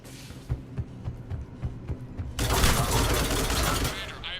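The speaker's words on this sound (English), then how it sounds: "Cannon fire is clearing the way." Cannon fire in the Mass Effect 3 mission Arrival: a rapid run of sharp, rhythmic bursts gives way midway to a loud sustained roar of heavy firing and rumble, with battlefield din throughout.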